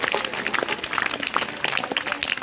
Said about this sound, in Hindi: सभी स्वामी जी महाराज के लिए जोरदार तालियां बजाएंगे।